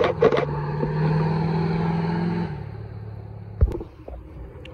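An old American pickup truck drives past outside a racing circuit, its engine a steady, moderately loud rumble that fades after a couple of seconds and ends in a short thump.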